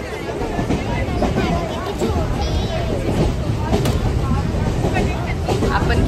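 A steady, loud rumble of a moving train with rail clatter and background chatter from passengers riding in the carriage, continuous and close throughout.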